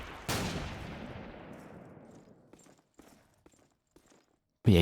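Gunfire in the WWII shooter Call of Duty 2 during a competitive match: one loud close shot with a long echoing tail, then a few faint distant shots, and a sharp loud burst at the very end.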